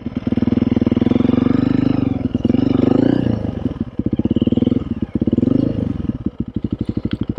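A Honda CRF300L motorcycle engine roars loudly up close while riding, revving near redline and surging in waves, then drops to a choppy, pulsing idle.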